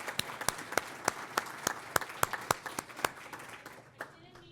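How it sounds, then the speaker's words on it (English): Sparse, individual hand claps from a small audience applauding a government minister at a panel event, sharp separate claps that thin out and fade toward the end. "Another round of applause for Minister Osborne."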